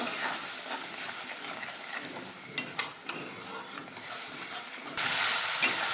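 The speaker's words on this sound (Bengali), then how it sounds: "তেলের উপরে কাঁচা লঙ্কা দিয়ে দিলে না ভীষণভাবে ফাটে" Green chilies hiss and spatter in hot oil in a pan, with scattered sharp pops and crackles, growing louder and more intense toward the end.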